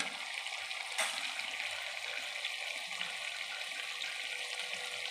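Water pours steadily into a pan of cooked-down chicken curry, a continuous soft hiss and gush heard close up throughout, with one sharp knock near the start.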